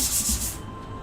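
Abrasive foam pad rubbing across a painted wooden dresser, a short soft scratchy sanding stroke up close.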